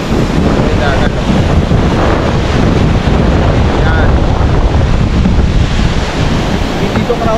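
Sea waves wash continuously onto a white sand beach near Puerto Galera, loud and close with heavy wind buffeting the microphone, and a person speaks briefly over the surf.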